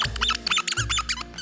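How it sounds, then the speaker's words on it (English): A Jack Russell terrier works a squeaky toy, producing a rapid run of high, sharp squeaks in quick succession, close and loud, with a short pause in the middle. "she loves toys, squeaky toys"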